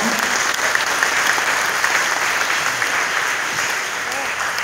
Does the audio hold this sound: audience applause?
yes